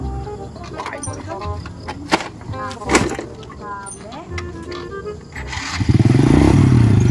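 A scrap collector's motorcycle engine revs up loudly and close near the end, after a stretch of scattered bangs, chirps and thuds with voice-like sounds mixed in.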